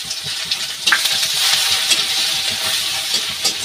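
Garlic hits hot oil in a pan with dried bay leaf and red chilli, bursting into a loud, bright, continuous sizzle close by that swells after the first second and holds steady with no talking.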